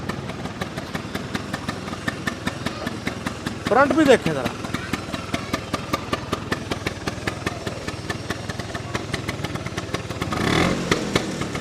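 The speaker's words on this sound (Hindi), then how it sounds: "सबसे पहले इसका साउंड सुने, बड़ा टिपिकल 2 स्ट्रोक साउंड।" A Vespa 150 two-stroke scooter engine runs steadily with a rapid, crackling idle throb throughout, while a person speaks briefly over it; a louder rev surfaces near the end.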